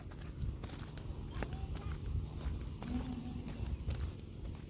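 Bullocks' hooves clopping on hard ground at a slow walking pace, with scattered footfalls, outdoor background noise and occasional faint voices.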